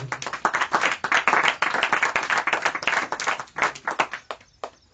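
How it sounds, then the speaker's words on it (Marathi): A congregation claps loudly and fast in dense, uneven bursts that keep going for several seconds, then thin out and stop. "गौरवासाठी आपण जोरदार टाळ्या वाजवू"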